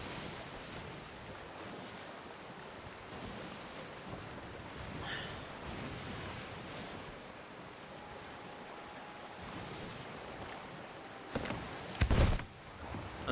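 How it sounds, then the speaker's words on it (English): Wind and ocean waves in the pirate video game Sea of Thieves, a steady broadband rush of surf and gusting wind throughout, with a louder burst of splashing or creaking near the end. "Oh, is the wind changing? Oh yeah, got some wind."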